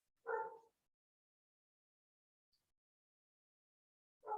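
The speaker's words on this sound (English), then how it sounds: "Can you hear my dog" A dog barks twice, single sharp barks spaced about four seconds apart with quiet between, fairly close.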